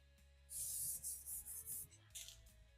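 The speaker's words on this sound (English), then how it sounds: "Just gonna wipe both sides off here." A cloth rubs and wipes over a freshly sanded metal carpet hold-down for a Volkswagen Bug, giving several quiet, hissing strokes in quick succession, then a shorter final pass.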